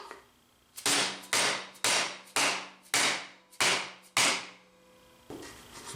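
Hammer blows on a clamped steel sheet being formed into a sheet metal patch panel, seven sharp ringing strikes in a steady rhythm, loud and close, with a faint hum between hits.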